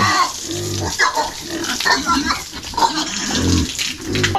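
Farm pigs grunt and squeal loudly at close range during feeding, with splashing water mixed in as the animals jostle together.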